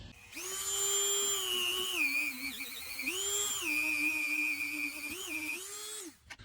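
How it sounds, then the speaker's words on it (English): High-speed Dremel rotary tool with abrasive Scotch-Brite-style bits working on a 1937 Maytag 72-D engine part: a close, steady high-pitched whine that dips and rises in pitch as the load changes, running for about six seconds and then stopping. "They're kind of like cheap Scotch-Brite bits for a Dremel tool or some high-speed rotary tool."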